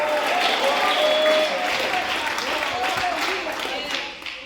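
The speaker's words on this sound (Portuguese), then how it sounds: "dá uma salva de palmas" A church congregation applauds warmly, a close, dense round of clapping that holds steady and then slowly fades.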